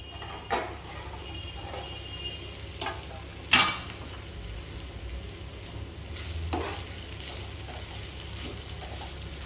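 Beetroot with chana dal fries in a pan, a low steady sizzle punctuated by occasional spoon-against-pan stirring knocks and one sharper clatter, fairly quiet with no talking.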